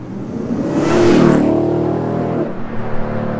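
A Ford F-150 Raptor R truck's 700-horsepower engine revs up close and loud, swelling to a peak then easing back to a steady rumble.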